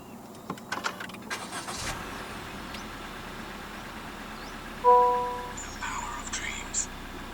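2023 Honda WR-V 1.5 E started by push button, a click and brief cranking that settles into a quiet idle, followed by electronic chimes, with a person talking over it.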